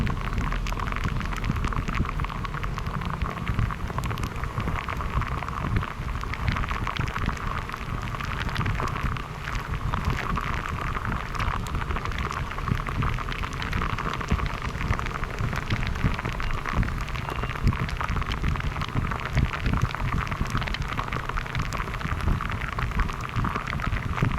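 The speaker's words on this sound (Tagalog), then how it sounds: "Yung patak ng ulan." Heavy monsoon rain pours steadily in a dense, constant hiss and patter of drops hitting surfaces, continuous and close throughout with no voices.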